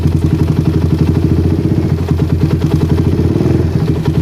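A motorcycle engine fitted with a PE PWK PWL carburetor idles steadily and close, a throbbing rhythmic putter with a thin, faint hiss running beneath it.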